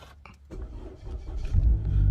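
A 2015-or-later Suzuki Swift started by push button, the engine catching after a brief crank and settling into a close, steady idle that grows louder over the final second.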